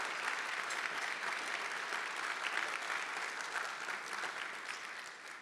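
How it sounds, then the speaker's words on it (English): An audience at a city's State of the City address breaks into steady, sustained applause, a dense wash of clapping from a large crowd that fades slightly at the end. "Let's clap our hands for that."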